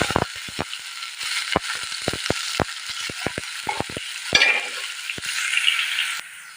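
Onion, ginger and garlic paste masala fries on high flame, with quick, sharp stirring clicks and scrapes over a hissing sizzle that swells toward the end.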